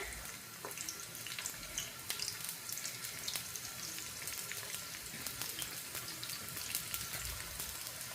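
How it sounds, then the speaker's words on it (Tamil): Onions frying in hot oil for a Batticaloa-style maasi sambal make a steady, dense sizzle and crackle throughout, fairly close with no voices. "நாங்கள் எடுத்து வச்சுருக்கிற வெங்காயத்தை வந்து இதில் போட்டு பொறிச்செடுப்போம்"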